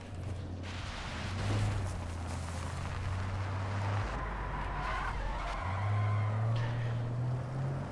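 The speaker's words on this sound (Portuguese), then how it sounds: "Meu irmão, carro ruim da miséria. Só patina, não anda." Car wheels skid and spin in the video game Warzone, a weak car slipping without gaining grip, with a loud, continuous engine drone and tyre squeal across the whole stretch and a brief dip midway.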